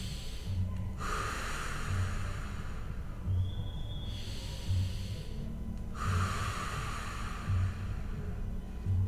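Slow, rhythmic breathing, drawn in through the nose and blown out through the mouth during a lower-back exercise, with several clear breath cycles at close range, each exhale a soft, airy rush.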